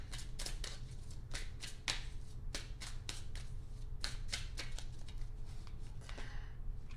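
A deck of tarot cards being cut and shuffled by hand, producing a quick run of crisp, close riffling snaps and flutters that repeat steadily throughout.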